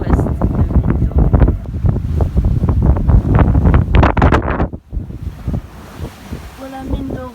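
Strong wind at sea in the Calavite Passage off Mindoro, with steady roaring gusts buffeting the microphone and surf washing alongside, easing near the end.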